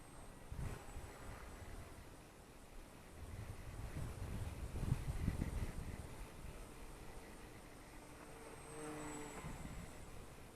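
A Volantex P51D Mustang RC model plane flies aerobatics, its faint electric motor whine rising and falling as it passes, quiet and distant outdoors.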